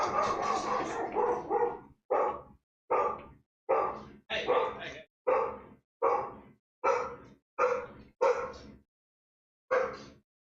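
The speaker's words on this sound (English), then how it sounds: "There's the dog." A dog barks in a repeated series of loud, close bursts with short gaps, about a dozen barks in a row, indoors near an open front door.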